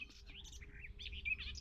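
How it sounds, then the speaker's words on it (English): Birds sing by the Prees Branch of the Llangollen Canal, a close, lively run of varied chirps and warbling phrases over a low background hum, with no one talking. "One of the things I love about this spot is the birdsong."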